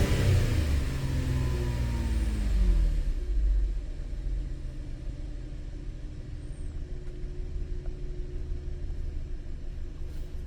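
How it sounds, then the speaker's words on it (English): A car engine revs during a snap throttle test, first surging loudly with a rising then falling pitch and then dropping back to a steadier, quieter running drone for the rest of the clip. "We'll do a snap throttle test."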